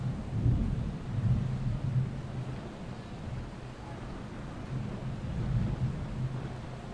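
Muffled low thunder from a thunderstorm moving closer, rolling and rumbling in slow waves for several seconds, heard from indoors behind closed windows, no talking.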